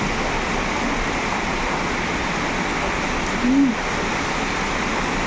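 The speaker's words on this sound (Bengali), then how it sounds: "দেখো বৃষ্টি পড়ছে দেখো" Heavy rain pours down steadily in a dense, even wash of noise close by, with a brief faint tonal sound briefly rising over it near the middle.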